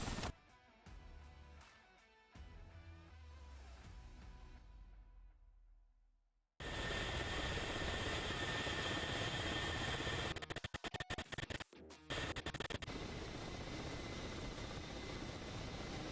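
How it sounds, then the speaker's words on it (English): KA-50 Black Shark helicopter in a combat flight game, a loud steady rotor and engine roar that starts abruptly after a fading quieter stretch and runs continuously, with a brief stuttering dropout partway through. "Tank East now heading downrange in the KA-50."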